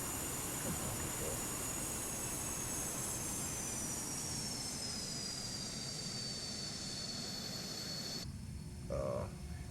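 Jet engine reverse thrust in Microsoft Flight Simulator, a steady loud broadband roar with a whining high tone that slowly falls in pitch, then cuts out abruptly near the end, leaving a brief faint click.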